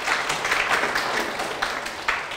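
A live classroom audience claps for a participant after a balance experiment, a brisk burst of many hands clapping fairly close, steady throughout with a few sharper individual claps.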